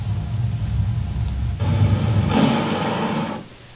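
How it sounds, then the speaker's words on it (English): Mercedes-Benz E-Class PRE-SAFE Sound protective noise from a 2017 model: a short, even hiss-like burst of broad noise lasting under two seconds over a low car rumble, starting and stopping abruptly. "but what you just heard was pre-safe sound."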